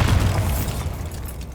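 Bombarda spell explosion in the video game Hogwarts Legacy: a single loud, deep boom that rolls out and fades over about a second and a half, with no voice over it.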